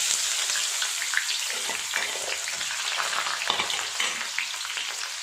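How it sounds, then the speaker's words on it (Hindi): Steady, dense sizzling of finely chopped onion frying in hot oil, with small crackles and pops throughout, close and continuous. "लौंग डालने के बाद एक हम इसमें बारीक कटा हुआ प्याज डालेंगे।"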